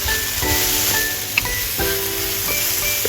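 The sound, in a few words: stir frying carrots and king oyster mushrooms in oil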